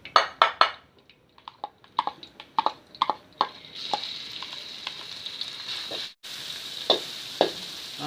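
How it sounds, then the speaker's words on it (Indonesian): Ground spice paste sautéing in a little oil in a hot wok, a loud sizzle with a run of sharp spatula scrapes and stirs near the start, settling into steady frying hiss with occasional clinks. "Kemudian kita tumis bumbu tadi yang kita ulek."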